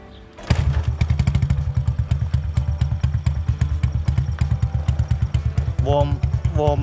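Honda Dream 100 motorcycle fitted with a Wave 125 engine, started up and idling with a steady, fast thumping beat close by, a few clattery mechanical ticks over it and brief voices near the end.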